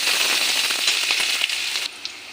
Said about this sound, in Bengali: পেঁয়াজ দিয়ে রসুন দিয়ে দেবো রসুন পেঁয়াজটা ভাজা ভাজা হয়ে যায়